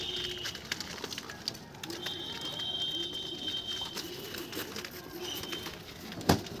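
Madras pigeons coo softly in a loft, low throaty calls recurring through the stretch over steady ambient noise, with a brief sharp knock near the end.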